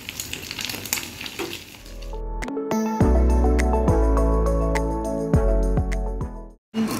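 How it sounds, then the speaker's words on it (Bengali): Beaten eggs fry in a hot pan in a home kitchen, giving a hissing sizzle at first. Steady tonal sounds then rise over it and carry on to the end. "দেখুন এক পিঠ ভাজা হয়ে গেছে, এর অপর পিঠে উঠতে নিচ্ছি। বাস গরমা গরম ডিম ভাজা, ফেনা ফেনা লাগছে।"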